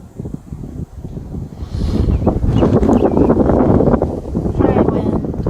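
Wind blows outdoors in a steady, fairly loud rush across the microphone, building after the first couple of seconds and holding through to the end, with no talking.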